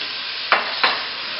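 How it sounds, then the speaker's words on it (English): Diced sweet potatoes are stirred in a cooking pot for a vegetable curry, two short scraping swishes about a third of a second apart over a steady background hiss. "Stir this around."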